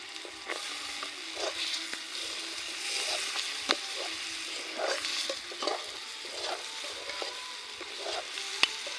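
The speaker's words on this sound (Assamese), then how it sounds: "এতিয়া মটৰ অলপ ঢালি দিলোঁ" Peas tipped into a hot frying pan with local spices, sizzling steadily while a utensil scrapes and stirs in repeated strokes, close and fairly quiet, with no voices.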